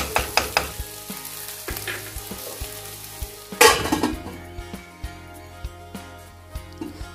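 Bitter gourd (karela) sabzi sizzles steadily in a pan, close and fairly loud, with frequent clinks and scrapes of a spoon stirring the vegetables and one louder clattering stir midway.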